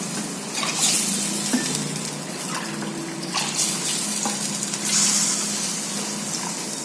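Water, six cups for one cup of rava, runs steadily from a tap or pours continuously into a cooking pan, a bright splashing rush with small bursts and gurgles throughout.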